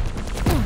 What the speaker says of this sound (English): I'm assuming the power of the nail gun.